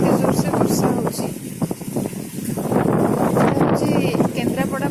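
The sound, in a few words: heavy monsoon rain and wind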